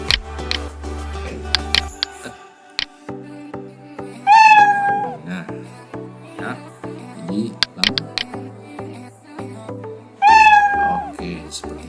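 Cartoon-style cat meows from a Scratch program play twice over background music, each a bright rising-falling mew, with a person talking in Indonesian between them.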